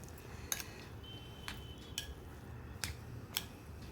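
Potato and corn toast topping being mixed with turmeric and spices, a few light clinks of a spoon against a bowl at scattered intervals over a quiet background.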